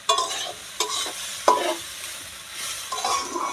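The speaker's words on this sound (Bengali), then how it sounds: "এদিকে ভালোভাবে মুগের ডালটা আমি ভেজে নিই" Mung dal dry-frying in a pan during village-style khichdi cooking, with a steady broadband sizzle and several distinct scraping stirs of a spatula at irregular intervals, close and alone without talk.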